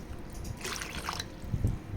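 Water poured into a pot of cut potatoes, a short splashing gush in the middle followed by a few soft drips and knocks, close and alone.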